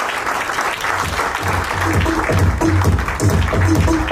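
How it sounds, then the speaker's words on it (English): An audience at a company's 15th anniversary celebration claps loudly and continuously as an employee is invited on stage, with music or a low rhythmic beat running underneath the applause. "Big round of applause, please."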